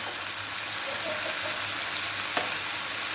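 Garlic paste fries in a pan with a steady, close hiss and crackle that runs throughout, broken by a faint spoon scrape near the end.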